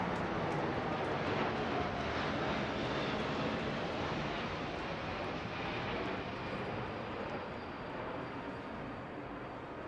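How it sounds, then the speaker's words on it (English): A C-17 Globemaster heavy-lift transport with a BA 146 behind it flies past in a Royal Air Force centenary flypast over London, a loud continuous jet roar that holds steady and eases slightly toward the end. "we're seeing the C-17 Globemaster, our long-range strategic heavy lift transport, and behind it the BA 146"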